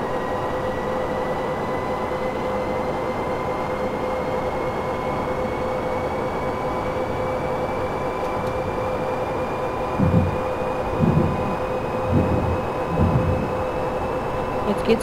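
A Class 111 electric locomotive in Train Simulator 2015 accelerates out of a station on the Hannover–Uelzen line: a steady drone with a rising whine grows slowly in pitch, joined near the end by rhythmic clacking of wheels over rail joints.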